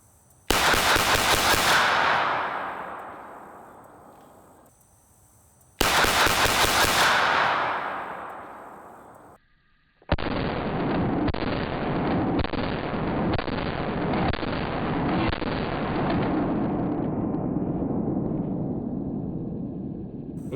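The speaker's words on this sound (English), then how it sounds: "I'm going to start things with the USP. I'm also going to just start in single action, so no double action on any of these shots." Two sharp, loud HK USP Expert pistol shots fired in single action at an outdoor range, each ringing out with a long decaying echo, followed by a sustained burst of heavy rapid gunfire filling the rest of the clip.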